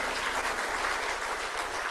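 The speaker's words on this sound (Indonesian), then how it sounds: "Tepuk tangan untuk beliau sekali lagi." A crowd applauds steadily, dense continuous clapping from many hands heard from a moderate distance, with no voices.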